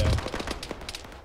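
A rapid burst of automatic gunfire in Arma 3, a heavy opening shot followed by a quick string of cracks trailing off, fairly close, with no speech over it.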